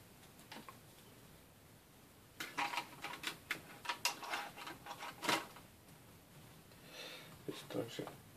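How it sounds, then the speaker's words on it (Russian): Keyboard coming off an Asus X51R laptop during disassembly: a quiet run of small plastic clicks, snaps and rattles, close by, clustered between brief pauses with faint background noise. "И снимаем клавиатуру."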